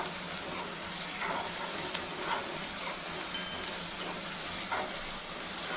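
Ginger garlic paste masala fries in a pan while being stirred, giving a steady close sizzle with soft rhythmic scraping strokes throughout; no voices.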